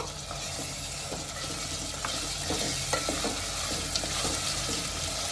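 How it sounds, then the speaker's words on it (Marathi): Potatoes and peanuts sizzle as they are stir-fried in hot oil, giving a steady, broad crackling hiss with occasional scraping clicks from stirring, close and continuous. "आता ह्यात मी बटाटे घालून घेते आणि शेंगदाणे घालून घेते यांना तेलामध्ये चांगलं परतून घेते"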